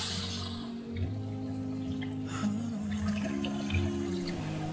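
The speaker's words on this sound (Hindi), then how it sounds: "भूनने के बाद उसमें इतना पानी ऐड करें जितना आपको शोरबा चाहिए।" Water poured into fried mutton in a pot for a desi mutton kunna curry, a continuous splashing and gurgling pour close by that runs steadily through the whole stretch.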